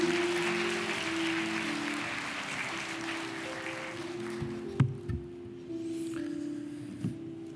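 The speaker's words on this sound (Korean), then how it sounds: "우리 목사님에게 환영의 박수를 좀 드리겠습니다" A congregation at a Wednesday morning women's worship service in a Korean church claps to welcome the pastor, the applause fairly soft and tapering away, followed by a few light knocks and a steady tonal hum.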